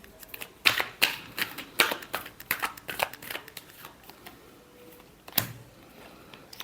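Tarot cards being shuffled by hand, a run of quick crisp riffling flicks and taps, close and fairly soft, with one sharper snap near the end.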